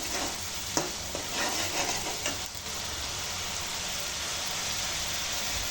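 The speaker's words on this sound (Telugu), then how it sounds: "బాగా వేయించుకొని ఇది పచ్చివాసన పోయేంత వరకు వేయించుకోవాలి." Red chilli chicken masala fries and sizzles in a pan, a steady dense crackle with a few scraping stirs near the start, continuous and close with no voices.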